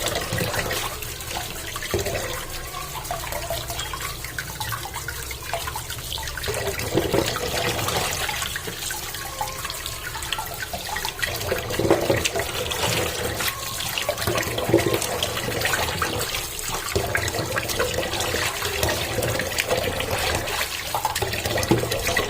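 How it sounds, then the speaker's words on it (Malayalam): Muddy tapioca pieces washed one by one under running tap water, a steady splashing, trickling flow that carries on loudly and continuously for the whole stretch without any talk. "ഇങ്ങനെ ഓരോന്ന് എടുത്തുങ്ങാണ്ട് ഇതേപോലെ ഞാൻ കഴുകാറാട്ടോ പൂള"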